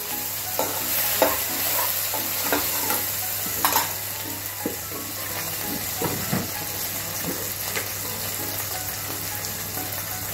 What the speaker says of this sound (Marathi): हे अद्रक लसूण पेस्ट हे टाकायचं त्याच्यामध्ये, चांगलं परतून घ्यायचं।